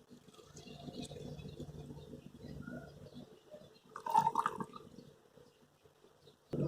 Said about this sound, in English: Firstly, we will add kerosene oil.